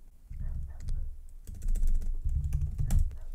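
Someone types code on a computer keyboard, a quick, close run of clicking keystrokes in uneven bursts with a short pause in between.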